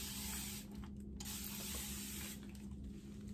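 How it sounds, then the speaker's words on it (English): A spray bottle mists water over furniture before painting, giving a faint, continuous hiss with brief dips in the spray, heard alone at close range. "something else that you can do is to mist the furniture itself"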